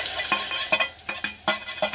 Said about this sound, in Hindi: तो देखिए तड़का तैयार हो चुका है। अब मैं इसको कीमे में ऐड कर रही हूँ